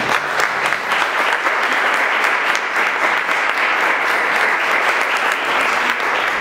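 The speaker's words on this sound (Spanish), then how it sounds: "La recibimos con un aplauso, por favor." Audience applause filling a hall as a speaker on Mexico State cultural heritage is welcomed, a steady dense clapping that holds strong and even from start to finish with no voices over it.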